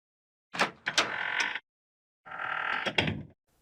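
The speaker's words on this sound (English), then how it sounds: "the doors all open and close with the same sound effects in this game" Two heavy door movements from the Echo Night video game, each a loud thudding creak and slide lasting about a second, separated by a short silence, heard alone without speech.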